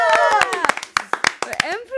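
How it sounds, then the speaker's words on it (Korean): A handful of people in a Korean radio studio clap in scattered, uneven bursts beneath lively conversation and laughter, the claps near and crisp between voices. "박수 치면서 일단 시작하죠"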